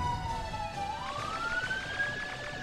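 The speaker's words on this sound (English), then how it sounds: "there was an ambulance or something going by" Ambulance or similar emergency siren passing by outside, a steady wailing tone that rises in pitch over a few seconds, faint and distant beneath constant low background rumble.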